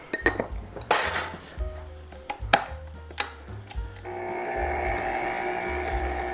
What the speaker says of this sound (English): Now we're gonna beat this together again.